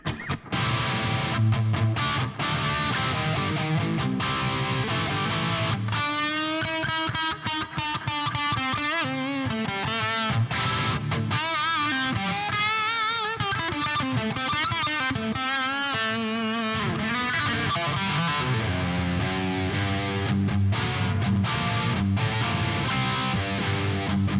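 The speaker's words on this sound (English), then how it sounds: "If I go to our first distortion, and let's pretend that this is the high gain channel on an amplifier." An electric guitar plays through a distortion pedal set like the high-gain channel of an amplifier, giving a thick, saturated and sustained tone with chords and single notes ringing fairly loud and without talk.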